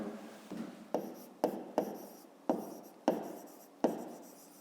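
A pen writes numbers by hand on paper in a math exercise, making short scratchy strokes in about seven distinct bursts, close and fairly quiet.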